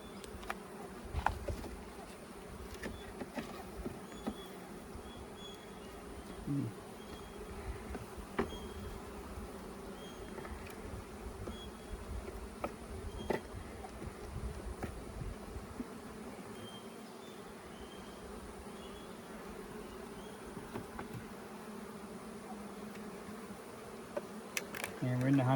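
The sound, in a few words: honey bees buzzing at open beehive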